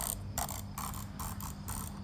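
A gaming mouse being rapidly rubbed for high click speed produces dense, steady bursts of fast clicking, close and evenly paced across the whole moment.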